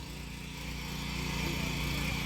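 Small power weeder engine running steadily in a farm field, a continuous droning motor hum close by, with faint voices in the background.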